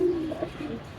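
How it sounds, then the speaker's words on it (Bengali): A khaki pigeon gives one short, low throaty coo that fades within a second, heard close and alone. "খাকি কবুতর মাশাআল্লাহ খুব সুন্দর"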